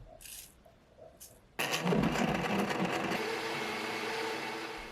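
A blender grinds chopped cabbage core, a roughly cut apple and salt, starting abruptly after a quiet moment and then running steadily as a loud, close whirring roar with a rough, churning texture.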